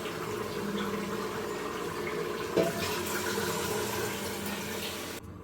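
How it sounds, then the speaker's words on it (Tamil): Water pours steadily into a pressure cooker holding chicken for biryani, a continuous, moderately loud splashing fill with a brief knock midway. "இப்போ சிக்கனை குக் பண்ணுறதுக்காக மட்டும் 5 கிளாஸ் வந்து தண்ணி சேர்த்துக்கிற போகிறேன்."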